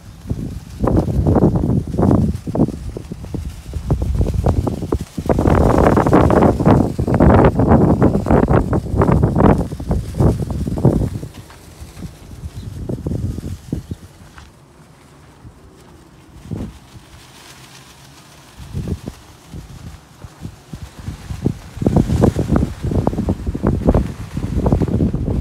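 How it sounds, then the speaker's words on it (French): Strong outdoor wind blowing dust buffets the microphone in loud, gusting bursts that come and go, with quieter lulls between the gusts. "il y a beaucoup de vent, donc la poussière vole"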